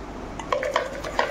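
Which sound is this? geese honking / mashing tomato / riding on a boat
mashing tomato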